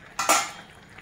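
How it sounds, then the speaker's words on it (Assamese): A spoon scrapes and clinks briefly against a cooking pot while dal and greens are stirred, making two quick metallic strokes followed by quiet. "আকৌ এবাৰ লৰাই দিছোঁ"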